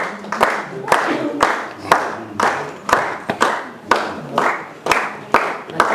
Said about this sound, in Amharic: እሺ ሞቅ ያለ ጭብጨባ አድርጉላቸው።